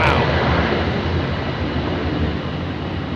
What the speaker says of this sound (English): Talk about takeoff thrust.